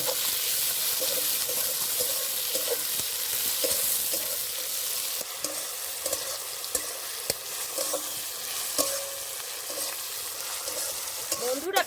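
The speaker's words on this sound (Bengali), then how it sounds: "এবার দিয়ে দেবো টমেটো কুচি পেঁয়াজ আর টমেটোটা ভালো করে ভেজে নেব" Chopped onion and tomato frying in hot oil in a pan, a dense steady sizzle with intermittent spatula scrapes and taps against the metal, close and uninterrupted.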